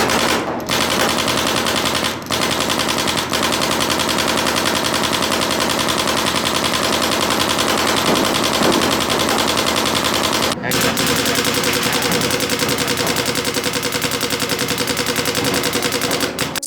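A Planet Eclipse GEO 2 paintball gun fires in rapid bursts on a field, with dense continuous shot trains and brief pauses between them.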